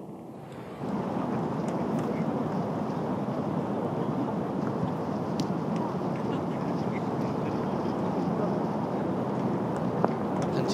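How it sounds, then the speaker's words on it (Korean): Strong wind blows across a golf course at a professional women's tournament in foul weather, a dense, steady roaring rush that starts abruptly and continues without letup. "뒷바람이 다시 강해졌습니다."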